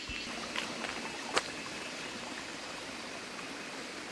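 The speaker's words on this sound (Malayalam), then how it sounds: "ചെറിയൊരു വലരി ഈ സൈഡിൽ കൂടെ പോകുന്നുണ്ട്" A small stream runs along the edge of a rural one-acre plot, giving a steady, soft flowing wash with a faint trickling texture and one brief sharp tap, continuous and fairly distant.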